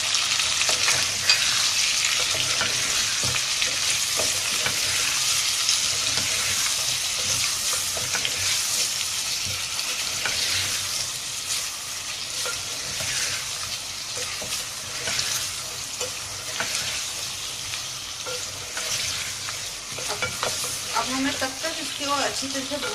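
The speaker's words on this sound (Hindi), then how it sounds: "अच्छी तरह से भूनना है तब तक ये हमारे आलू इसके साथ मिक्स ना हो जाए" Potato slices fry in a pan with tomatoes, green chilies, red chili and salt, giving a continuous hissing sizzle broken by scraping stirs, close and steady throughout with faint talk now and then.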